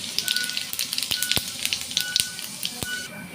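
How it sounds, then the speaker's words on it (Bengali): Cumin seeds splutter in hot oil in a pan for a Bengali fish curry: a soft hiss broken by frequent crisp pops and a few louder cracks, close by and uneven in rhythm. "তেল গরম হয়ে গেছে জিরে ফোড়ন দিলাম"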